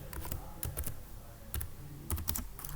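Rapid typing on a computer keyboard while entering C code for a structure program: quick clusters of key clicks with short pauses between bursts, close and clear with no talking.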